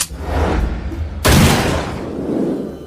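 Two gunshots fired at a shooting target, a loud nearby report at the very start and a sharper, louder blast just past a second later, each trailing into a fading rumble with no talk.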